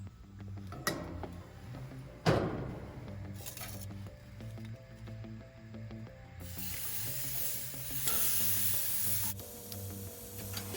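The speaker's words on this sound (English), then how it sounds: "Now we're going to place the ribs onto the barbecue." Marinated Asian-style short ribs laid onto a barbecue grill preheated to medium-high, giving a steady sizzle with metallic clinks and clatter of tongs and grate, a louder hiss rising in the second half as more meat goes down.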